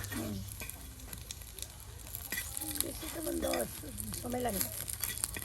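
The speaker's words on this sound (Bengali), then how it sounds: "তেলের সাথে উলট পালট করে দেওয়া হচ্ছে" Moringa leaf and Malabar spinach flower fritters fry in oil with a steady sizzle and occasional stirring clinks, heard up close beneath a woman's speech.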